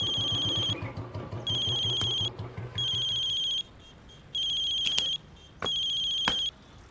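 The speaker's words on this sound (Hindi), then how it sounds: "सारा दिन भर फोन बजते रहते हैं हमारा" A mobile phone ringtone rings in repeated electronic bursts, five bright pulsed tones separated by short gaps, loud and close, with some low background murmur in the first half.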